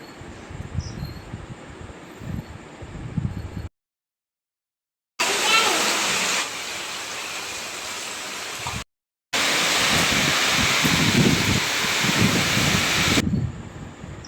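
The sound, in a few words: heavy rainfall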